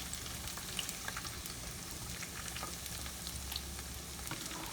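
Okra (bhindi) sizzles in hot oil in a pan, a steady dense crackle with tiny pops throughout, close and fairly quiet, no voices.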